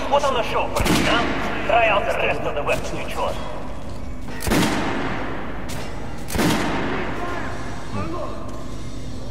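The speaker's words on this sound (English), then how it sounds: "Try shooting for the center of the regular dummy's chest. Good shot! Now shoot the armored dummy." Gunshots fired at regular and armored training dummies in the Metro video game ring out as several sharp, loud reports spaced a couple of seconds apart, with voices talking between them.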